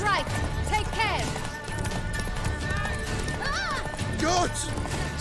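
Hooves clip-clop rapidly as a horse gallops under its rider through a town in The Witcher 3's Toussaint, with a whinny or two and voices talking over the steady hoofbeats.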